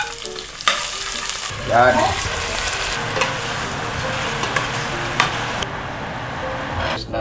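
Ginger fries in a hot pan while being stirred, with a loud, continuous close sizzle, occasional scrapes of a utensil against the pan, and a brief word spoken partway through.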